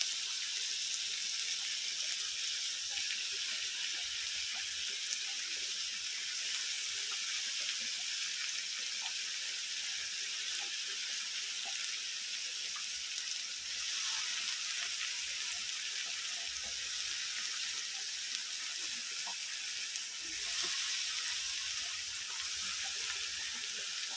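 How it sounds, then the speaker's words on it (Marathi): Soaked soybeans sizzle steadily in hot oil in a wok with onion and tomato, a soft, continuous frying hiss with faint crackles throughout. "ती थोडीशी अशा प्रकारे पिळून कढईमध्ये टाकून घेणार आहोत।"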